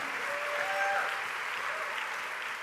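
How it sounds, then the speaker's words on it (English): An audience applauds steadily and fairly loudly for a few seconds, a dense wash of clapping with no pause and no talk over it. "Guys, give them a big round of applause"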